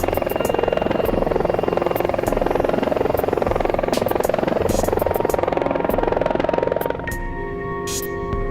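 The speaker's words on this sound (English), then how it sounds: "For an electric helicopter, it's kind of loud." An electric helicopter whirs loudly and steadily nearby with a throbbing buzz, then near the end the tone shifts as the motor note changes pitch.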